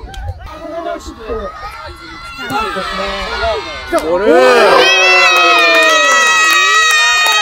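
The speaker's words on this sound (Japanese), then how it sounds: "これは大きな拍手が沸き起こっています。" A large crowd at a football festival, many children among them, erupts in cheering and shouting after a goal, swelling to a loud, sustained roar with talk over it.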